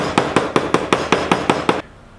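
A hammer strikes a copper rivet being peened over on leather, nine sharp, evenly spaced metallic taps in quick succession, close and loud, then stopping abruptly.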